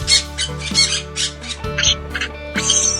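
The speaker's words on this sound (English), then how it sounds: "Parrot." A parrot squawks in loud, harsh bursts, several calls in quick succession with brief gaps, close and alone with no talk.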